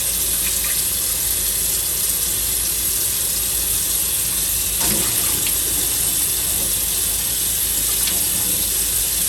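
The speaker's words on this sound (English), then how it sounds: "I'm just rinsing this meat" Steady running tap water rinsing meat in a kitchen sink, a continuous close hiss and splash that holds even throughout, with no talking.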